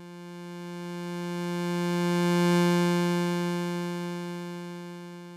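A sustained synth tone holds one steady pitch while it pans from left to right, swelling louder toward the middle and then fading away, with no voices present.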